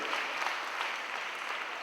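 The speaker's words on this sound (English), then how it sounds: "Give yourselves that clap." An audience at an HIV awareness talk claps together in a brief, dense burst of applause that stays steady throughout.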